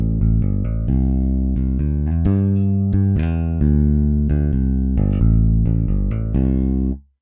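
Toontrack EZ Bass modern preset, a clean DI finger-played electric bass, plays a loud, punchy loop of rhythmic notes with a full low end, stopping abruptly near the end with no talk.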